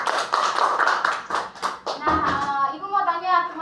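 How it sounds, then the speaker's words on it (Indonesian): Students in a classroom clap together in a quick burst of sharp claps, close and bright, then a teacher's voice and children's replies follow. "Tepuk tangan dulu."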